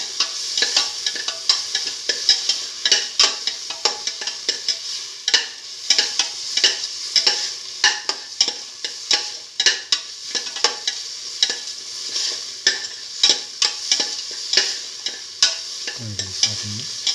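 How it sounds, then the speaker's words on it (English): Beef and eggplant with cilantro and mint sauté in a pan, a constant close sizzle broken by frequent rhythmic scraping and stirring strokes of a utensil, with no talking. "Thoroughly saute and mix."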